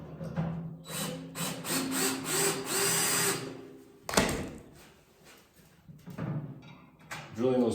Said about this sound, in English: Drilling those pilot holes definitely helps out.